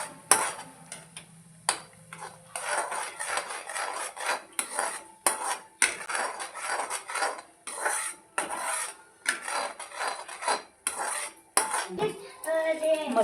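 A metal spoon scrapes and clatters against a pan while paneer gravy with ground masala is stirred, a steady run of close scraping and clinking strokes with an oily sizzle beneath.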